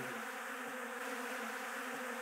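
Bees swarm over honey spilled in a beehive box during a beekeeping job, with a steady, dense buzz of many insects droning close by and no speech.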